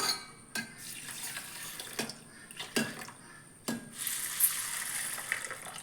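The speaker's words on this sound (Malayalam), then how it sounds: "ഇനി നമുക്ക് ഇതിലേക്ക് ആവശ്യത്തിനുള്ള വെള്ളം കൂടിയും ഒഴിച്ചു കൊടുക്കാം" Water pours into a bowl of idli batter ingredients in short bursts, separated by brief pauses and light clinks, then splashes more steadily near the end.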